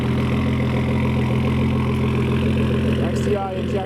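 Ford Taurus SHO engine idling steadily just after its first start following a direct-injection injector and high-pressure fuel pump install, a close, even mechanical hum with faint voices underneath.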